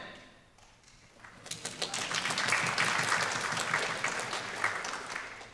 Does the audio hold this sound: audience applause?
yes